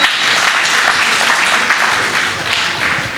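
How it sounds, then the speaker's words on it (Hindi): Steady, dense applause from an audience at a Holi poetry recital, many hands clapping together in a continuous loud wash with no talking over it. "एक बार आप तालियों से मुझे आदेशित कर दीजिए"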